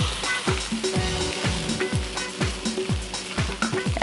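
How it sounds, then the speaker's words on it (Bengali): Garlic, coriander and cumin pastes frying with rice in a pan over a low flame for a Bengali meat khichuri, with a steady sizzle and a rhythmic run of scraping stirs close by. "এখন এটা 5 মিনিট মতো অল্প আঁচে ভাজতে হবে।"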